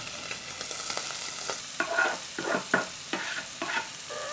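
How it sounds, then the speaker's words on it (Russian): Pork fat (salo) and onion fry in a pot, a soft steady sizzle broken by several sharp scraping stirs of a utensil against the bottom, close and moderately quiet with no talking. "Лук отправляю в кастрюльку и продолжаю обжаривать, перемешивать."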